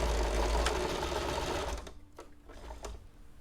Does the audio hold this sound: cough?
no